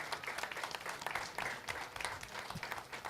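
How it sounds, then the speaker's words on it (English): An audience at a DJ music conference panel applauds, a dense and fairly distant patter of clapping that continues steadily for a few seconds. "Give them a round of applause, y'all."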